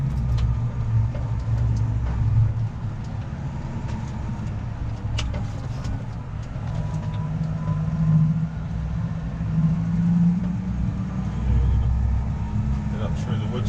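A car drives along a bumpy road through woods, its engine rumble steady and close throughout, with low jolts and a voice talking over it.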